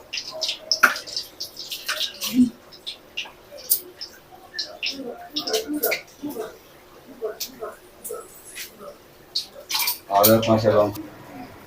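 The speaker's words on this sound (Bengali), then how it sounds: "মা এখানে করছে আমাদের বেসিন পরিষ্কার" A sink basin is scrubbed and rinsed in a home kitchen, with scattered clinks of dishes and utensils, rubbing and a burst of running water near the end, while people talk nearby.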